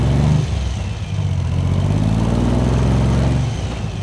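Meyers Manx dune buggy fitted with a radial airplane engine pulling away in first gear, a loud, deep, steady engine drone with throbbing low harmonics, close by.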